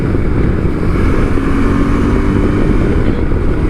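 A KTM Adventure 390 motorcycle is ridden, its engine droning steadily and loudly from close by without breaks, mixed with rushing air noise and no talking.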